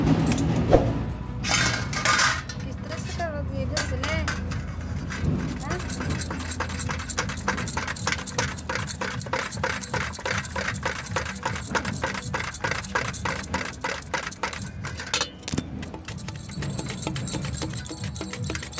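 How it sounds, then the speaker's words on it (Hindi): Raw banana sliced paper-thin into chips, a rapid, steady run of crisp cutting clicks and light clinks that continues to the end, with a voice talking over it. "ये देखिए पूरा पतला पतला चिप्स की तरह कट रही है"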